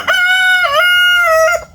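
A rooster crows once among farm chickens, close and loud, with a long sustained call that rises and falls before cutting off.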